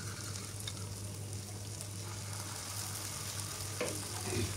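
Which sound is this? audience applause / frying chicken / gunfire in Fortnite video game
frying chicken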